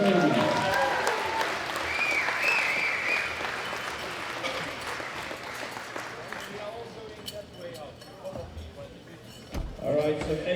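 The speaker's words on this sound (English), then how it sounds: "Big round of applause for all these ladies." Audience applause for women junior powerlifters at a world classic powerlifting championship, loud clapping and crowd noise that gradually fades, with voices and bits of music mixed in over the hall.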